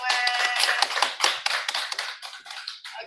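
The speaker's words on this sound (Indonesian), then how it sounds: "Oke, tepuk tangan buat kita semua." An indoor audience at an evening discussion session claps, giving a dense burst of rapid hand claps that gradually thins and fades over a few seconds.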